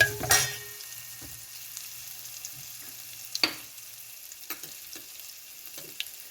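Spicy potato masala with green chillies and turmeric fries in a pan, a soft sizzle under intermittent scraping stirs and a few sharper knocks near the start, with no talking.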